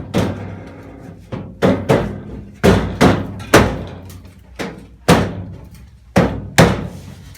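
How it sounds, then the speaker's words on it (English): Hammer blows on the seat cross member of a 1964 Mk1 Mini during restoration, about ten loud, close metallic bangs in an uneven rhythm with short pauses and no talk. "Cover your ears, I'm just going to bang a bit."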